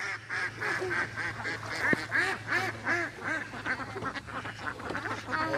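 Ducks quack in repeated nasal calls close by on a lake during a boat outing, several birds answering one another in irregular bursts, with a faint low hum underneath.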